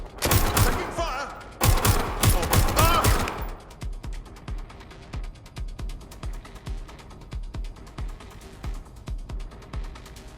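Gunfire in the video game Watch Dogs Legion: loud rapid automatic bursts up front, then a long run of sharp repeated mechanical clatter and shots, with speech mixed in.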